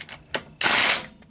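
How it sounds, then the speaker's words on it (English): A torque wrench ratcheting on wheel lug bolts, two quick clicks followed by a longer burst of ratcheting and one more faint click, all close and loud with no voices. "Now, I'm going to use a torque wrench"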